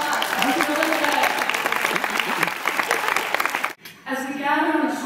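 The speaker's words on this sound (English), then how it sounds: "Give yourselves a round of applause." A dinner audience in Paris breaks into loud, dense applause that fills the room, then cuts off sharply as a voice begins talking over a quieter background.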